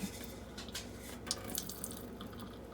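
Water is swished around in a container and then drained out as it is turned upside down, giving a continuous close splashing and pouring rush with a few brief drips.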